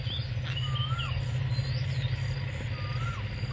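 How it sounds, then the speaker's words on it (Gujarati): Outdoors at dawn, an Asian koel calls with faint whistled notes over a steady low hum and soft insect or bird chatter in the background. "કોયલું બોલે છે."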